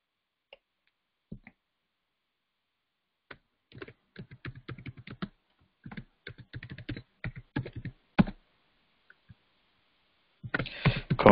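Keystrokes on a computer keyboard while a password is entered, heard as quiet clustered bursts of rapid tapping separated by short pauses, with a longer flurry at the end and no talking.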